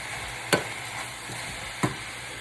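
Vegetables for burritos are stirred in a pan over a soft, steady sizzle, with two sharp scraping knocks of the utensil against the pan.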